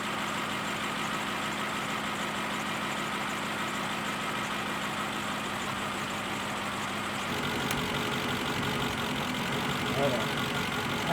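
A car engine idles steadily with a low, even hum while ignition coils are disconnected one at a time, the tone shifting slightly partway through, with someone talking over it.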